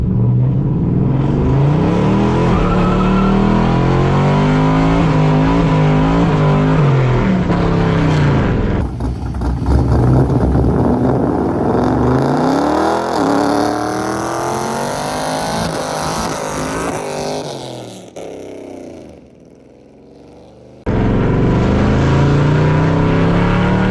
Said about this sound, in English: But I'm gonna give y'all a little burnout.